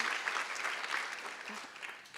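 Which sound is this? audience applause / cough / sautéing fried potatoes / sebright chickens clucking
audience applause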